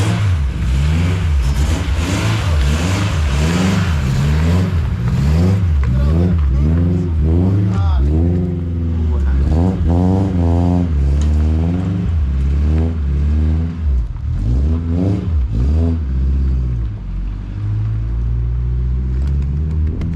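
Honda Civic EG with an LS VTEC engine swap pulling out of a garage and driving up a street, engine revving hard in repeated rising sweeps, loud and near, with a rumbling idle between pulls and voices speaking over it.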